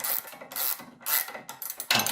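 A ratchet spanner works a bolt on a BMW 116 rear wheel carrier ball joint, giving several close, bright rasping bursts of clicking with brief gaps between strokes, loud and without speech.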